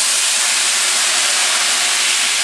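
Vermouth hits a hot pan to deglaze the browned bits from chicken piccata, giving a loud, steady, close hiss and sizzle that holds for the whole stretch with no pauses.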